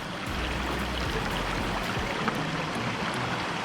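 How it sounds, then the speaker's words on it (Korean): Cool mountain valley stream in the Jirisan foothills near Hadong, South Korea, about 250 m up in a forest, with plenty of water flowing. It makes a steady, full rushing wash of water with no voices over it. "시원한 계곡물 흐르는 것을 감상해 보실까요?"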